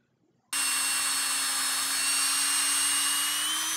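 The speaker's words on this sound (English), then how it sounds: "Then we drill holes in the root flare," A power drill boring holes into the root flare at the base of a tree, starting abruptly after a moment of quiet and then running as a loud, steady whine without pause.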